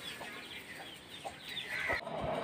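A hen clucks softly with her chicks as they feed under a tree, several short calls spread through the clip over quiet outdoor background.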